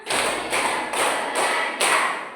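A room of students claps together five times in a steady, even rhythm, crisp and close, as part of a classroom warm-up routine, with no voices.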